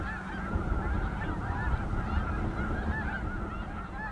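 A large flock of snow geese honking continuously, dense overlapping calls at a distance with no pauses.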